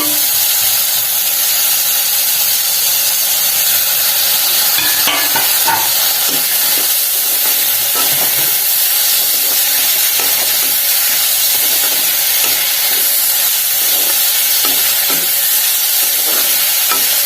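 Chopped tomatoes sauté steadily in a pan for prawn gravy, giving a continuous loud sizzle and hiss with faint stirring scrapes throughout, no voices.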